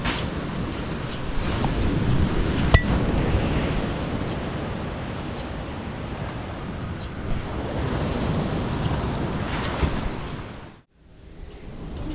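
Strong wind roaring steadily into the microphone, a dense rushing noise with gusts, briefly dropping out near the end before resuming.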